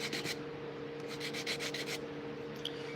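Sanding a bevel along the edge of a walnut wooden sheath, a steady close rubbing with quick repeated strokes, some bursts brighter than others, over a constant low hum.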